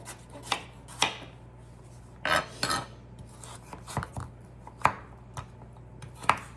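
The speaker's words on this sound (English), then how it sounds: "So I'm gonna just cube this and put this into the pot" A knife cubes a vegetable on a cutting board in a home kitchen, sharp isolated chops arriving in irregular bursts with short quiet gaps, close and clear over a faint steady hum.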